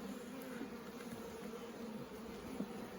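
Honeybees buzz around a split beehive: a soft, steady, continuous hum of many insects at a moderate distance.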